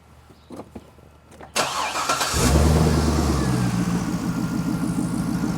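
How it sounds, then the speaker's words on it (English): A Chevrolet Corvette with an unresolved fault cranks briefly and fires up, then settles into a loud, steady idle that continues to the end. "So now I am going to start the engine."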